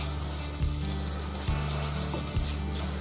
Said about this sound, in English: we're going to heat up a dry frying pan, maximum heat, and we're just going to burn the skin a bit